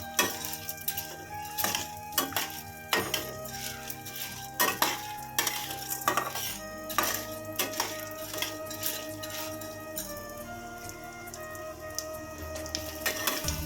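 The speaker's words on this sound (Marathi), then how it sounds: "डिंक पण आपण डीप फ्राय करूया." Edible gum (dink) deep frying in hot oil for dry fruit ladoos gives a steady bubbling sizzle, broken by sharp crackling pops and occasional stirring clatter from close by, with no talk.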